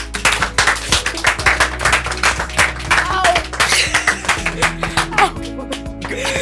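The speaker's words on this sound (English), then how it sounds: "Let's clap to that." A small group at a hot-wing tasting interview clapping in quick, uneven bursts, close and lively, with brief voices and laughter mixed in.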